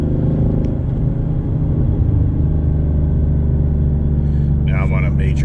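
A 2024 Ford Mustang GT with new suspension and aftermarket exhaust drives along, its engine and exhaust giving a loud, steady low rumble heard from inside the car.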